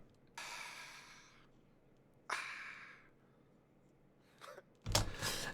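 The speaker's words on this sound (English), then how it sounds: "on one part of the track, he's just got little breaths and little ad-libs and stuff" Isolated vocal breath samples from a drum and bass track: a few sharp, close inhales and exhales, the first long and airy, then shorter bursts, with a final louder snort-like breath.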